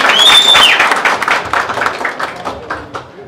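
A crowd at a Bhojpuri film audio launch event claps and cheers loudly at first, the applause gradually thinning and fading over a few seconds.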